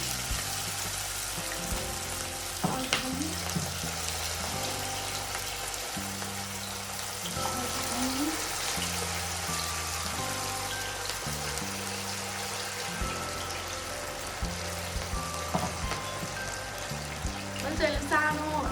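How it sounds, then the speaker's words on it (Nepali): Vegetable pakoras frying in hot oil, a continuous bubbling hiss with crackles as small portions of batter are lowered in, accompanied by a low rhythmic hum and scattered clinks throughout. "अब चाहिँ म पकौडा बिस्तारै राख्छु है।"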